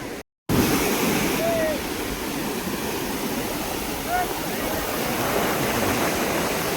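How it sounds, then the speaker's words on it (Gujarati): Sea waves surging and crashing along the coast at Somnath in Gujarat, a steady broad roar of rushing water heard close, with faint wind and a few distant bird chirps. "આમ તો પાણી ખાલી મોજા કેવા મારે"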